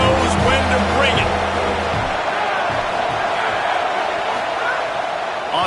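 A stadium crowd roars as a broad, steady wash of noise in a college football video game, with a commentator talking over it at the start.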